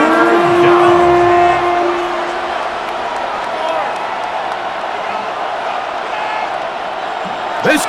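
Stadium crowd in Madden NFL 26 football game building noise before a third down, a broad steady roar with whistling and horn-like tones early on, continuing under talk.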